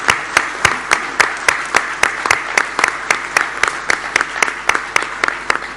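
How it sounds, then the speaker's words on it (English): Sharp, evenly spaced claps ring out about three per second, loud and close, like one or a few people clapping in a steady rhythm in a hall rather than a full crowd's dense applause. "Big round of applause for the Guild and for Andy."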